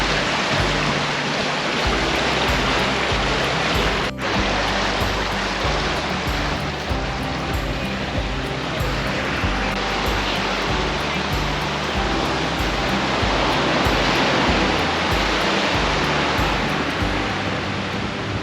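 Sea waves breaking on a cold day, a steady loud wash of surf with rolling broadband rush throughout and no clear individual breaks standing out.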